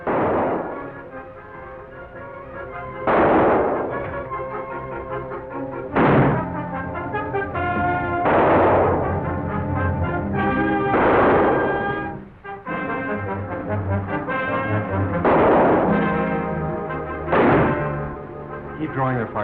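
Film shootout gunfire erupts in repeated booming shots at irregular intervals, each burst thudding over swelling orchestral music in an old western comedy movie.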